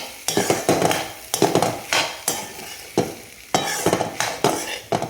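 Capsicum rice is mixed in a hot steel pan, with repeated rhythmic spoon scrapes and clanks against the metal about once a second over a faint sizzle, close and loud, with no talking.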